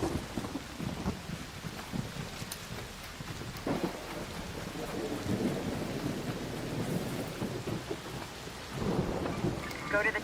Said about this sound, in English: an electromagnetic storm is currently raging over topside. Beware the lightning strikes if you're outdoors.